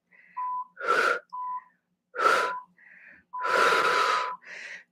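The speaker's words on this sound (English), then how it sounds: "strong exhales as you lift the chest and shoulders" Strong, forceful exhales during a HIIT yoga core and ab exercise: several sharp breathy bursts at irregular intervals, close and loud, with faint whistly tones between them.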